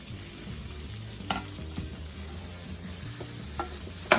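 Corn fries in butter in a pan with a steady close sizzle, broken by a few spatula taps and scrapes as the kernels are stirred.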